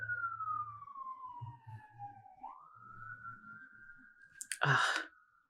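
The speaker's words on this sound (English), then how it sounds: "We have a siren coming," An emergency vehicle siren wails outside, sliding down in pitch and then back up as it passes, with a faint low rumble beneath, ending in a brief close rustle.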